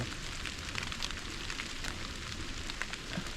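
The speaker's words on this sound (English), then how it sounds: "it's raining pretty good" Rain falls steadily outdoors during a pheasant and deer hunt near a tree stand, making a continuous hiss of drops pattering on surfaces, fairly faint and even throughout.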